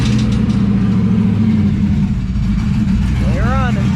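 A car engine, its coolant cap off after overheating repairs, runs loud and close at a steady idle, a constant low rumble throughout with a brief faint whine near the end.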